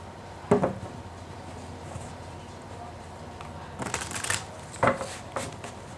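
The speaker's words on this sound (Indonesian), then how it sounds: "ketika aku shuffle kartu ini" Tarot cards being shuffled in a few quick riffling bursts, close and fairly soft, separated by quiet pauses.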